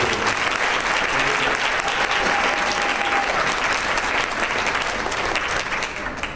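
An audience applauds steadily for several seconds, a dense, loud wash of clapping that fades slightly at the end.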